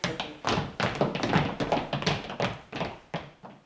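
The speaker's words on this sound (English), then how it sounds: "Stomp your feet." A group at a facilitation exercise stomps their feet, producing a string of about a dozen dull, thudding impacts in a loose, uneven rhythm, fairly close and loud with no talking.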